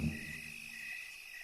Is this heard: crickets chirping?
yes